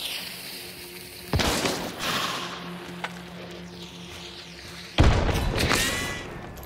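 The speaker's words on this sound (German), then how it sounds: "Und ich werfe eine Granate, genau." Grenade explosion and gunfire in the video game Hunt: Showdown, with two heavy booming blasts, each followed by a rumbling tail and crackling debris, loud and close, and no voices over them.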